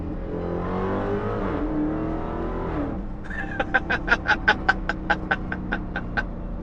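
A supercharged 2022 Dodge Charger Hellcat Redeye engine roars and climbs in pitch as it accelerates hard, then gives way to a series of sharp, rhythmic pulsing bursts.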